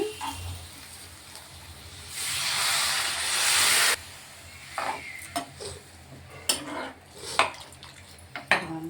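A loud burst of hissing steam as water is poured into a hot pan of prawn and okra curry with chilli powder and turmeric, lasting a couple of seconds, followed by scattered metallic clinks and stirring scrapes.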